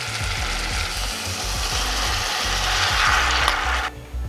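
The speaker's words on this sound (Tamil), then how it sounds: "இப்போ நம்ம தக்காளியை போடலாம்." Tomatoes going into onions frying in a pan for a Chettinad tomato kulambu, a steady close sizzle with scraping and clattering stirring knocks throughout, dropping away near the end.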